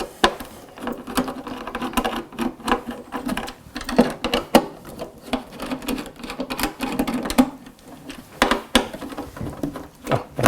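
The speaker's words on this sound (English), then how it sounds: "You just unscrew them." Four screws being unscrewed on a Bamiko clothes dryer, heard as a busy run of close, irregular clicks, ticks and light plastic knocks from the screwdriver and cover.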